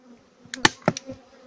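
Honey bees from a young colony buzz in a few short, close bursts over a faint hum, each zip lasting a fraction of a second.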